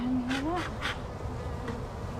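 Honey bees hum around an open hive, their faint buzzing drifting and rising in short passes over a quiet outdoor background.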